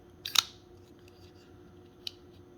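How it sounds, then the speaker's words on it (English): A CH Knives CH3509 folding knife flicks open on oiled bearings, a quick cluster of close, crisp metallic clicks followed by a single fainter click, over a quiet background hum. "That's the bearings rolling around."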